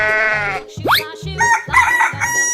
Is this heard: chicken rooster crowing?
yes